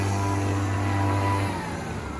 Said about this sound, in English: He's got one of those backpack foggers out